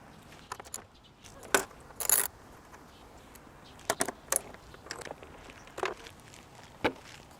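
Mirrors being unbolted from a Kawasaki ZX10R sport bike: a few sparse, quiet metallic clicks and taps of tools and parts handled at close range, with pauses between them.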